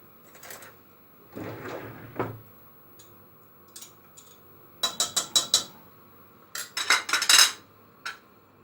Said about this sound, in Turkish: Ve kaynayana kadar karıştırıyorum